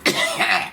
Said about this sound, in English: each breath, that's why the cough